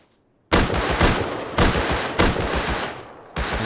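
Several loud gunshots in quick succession in the video game Rust, each blast leaving a long ringing tail, with a pause before a final shot.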